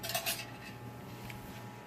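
A metal spoon scrapes and clinks against an opened WWII Red Army ration can while scooping out milk, a short, close, soft scraping with a light clink at the start.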